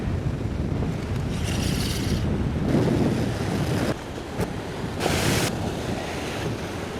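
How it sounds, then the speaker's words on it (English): Ocean surf pounds against coastal rocks in heavy wind, a loud continuous roar with surges as waves break close by, gusts buffeting the microphone, no talking. "Waves cannot harm me."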